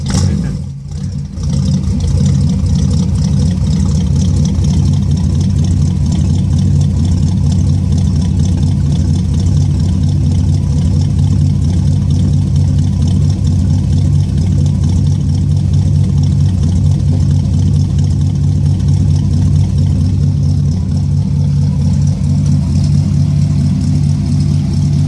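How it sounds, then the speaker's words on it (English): A 1937 Buick Special Coupe engine runs at a steady idle, a loud, continuous low rumble that holds even for the whole stretch, close by with no talking. "Great sound from a beautiful car."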